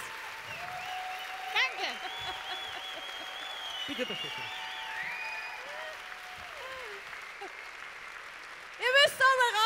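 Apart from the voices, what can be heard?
audience applause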